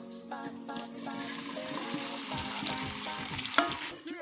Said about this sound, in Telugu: కొంచెం జస్ట్ ఫ్రై చేస్తే సరిపోతుంది.